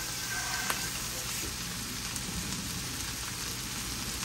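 Onions and shredded cabbage stir frying in a pan, a dense, even sizzle with soft crackles that holds steady throughout, close and moderately loud.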